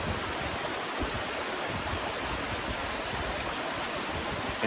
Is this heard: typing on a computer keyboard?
no